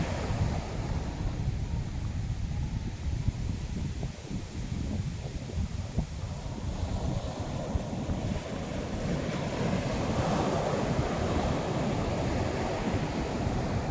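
Big sea waves wash onto the beach at Alappuzha in a steady, rushing surf, with wind buffeting the microphone and a swell building toward the end.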